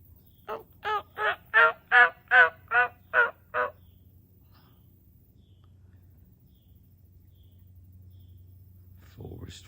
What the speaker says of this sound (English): Listen to those turkeys talking.